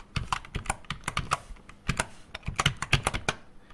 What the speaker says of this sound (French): maintenant, je vais pouvoir taper mon identifiant.